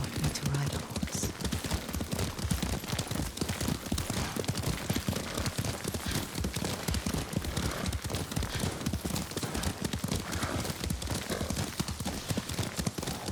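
Horse hooves clip-clop at a brisk, steady gait during a ride in the video game Ghost of Tsushima, a dense rhythmic patter that runs through the whole stretch at close range.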